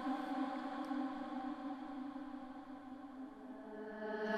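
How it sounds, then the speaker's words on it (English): A sustained, swelling reversed reverb on a vocal, a steady eerie harmonic wash that builds and sucks inward without clear words. "a reversed reverb to go over the top of that"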